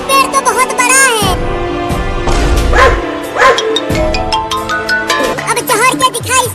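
A dog barks and yips in repeated bursts, fairly loud and close, mixed with people talking and calling out in a comic outdoor scene near a tree.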